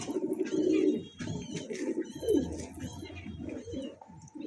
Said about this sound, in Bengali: জোড়া বাঁধা একদম পায়রা। ব্রিডিং পেয়ার একদম আছে